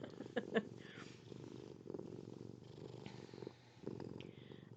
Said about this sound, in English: I apologize if you hear a cat purring.